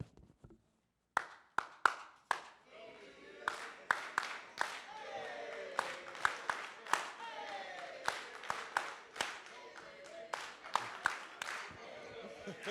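A small group of staff in the audience claps in scattered, uneven bursts, then builds into steadier applause with some crowd murmur underneath.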